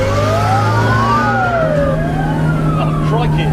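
Police car siren wailing behind a car on an open road, loud and close, with long rising and falling sweeps plus a steady engine drone, a voice talking over it.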